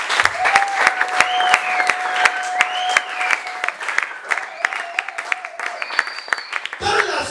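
A church congregation applauds, acclaiming Jesus: steady dense clapping fills the whole stretch, with sustained sung or shouted vocal tones riding above it and a voice breaking in near the end.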